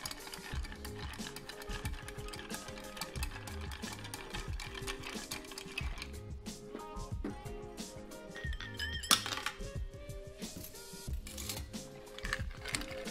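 A cocktail is stirred with ice in a chilled glass: a steady, rapid run of light clinks and rattles repeating for several seconds over a constant tonal background, fairly close.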